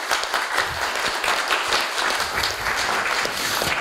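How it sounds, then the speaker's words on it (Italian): A conference audience applauds steadily for several seconds, a dense wash of clapping from many hands at moderate distance. "facciamoci un applauso"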